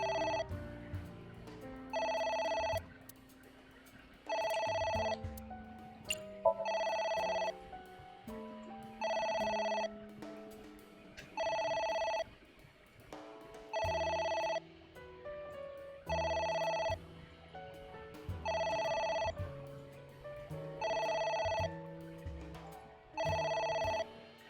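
A telephone in a video game rings in a steady repeating pattern of bright electronic bursts with short gaps, loud and close, over a low game music backdrop, with no speech.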